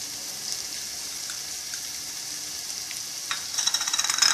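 Vegetables sauté with spices in a pan: a soft, steady hiss of sizzling oil, growing louder and more crackly near the end as stirring picks up.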